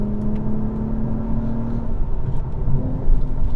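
The engine of a 2021 Acura TLX Type-S sport sedan, heard from inside the cabin, gives a deep rumbling growl that rises and falls through quick downshifts and throttle blips.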